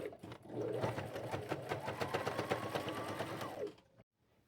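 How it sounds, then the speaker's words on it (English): A sewing machine stitches a seam on a purse made from thrifted jeans, running in a fast, even mechanical rattle for several seconds close by before stopping abruptly. "I'm fixing to just sew it down both seams, and then I'll sew it across the top"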